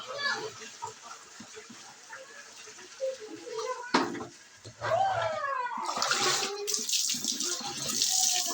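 Tap water runs and splashes in a wash area, rising to a steady gush in the second half, while people talk and exclaim nearby.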